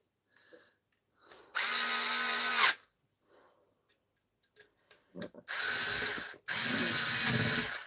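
A DeWalt or Milwaukee power drill-driver under repair, several short bursts of whirring motor with brief clicks and handling noises between them, close and fairly loud with no talking.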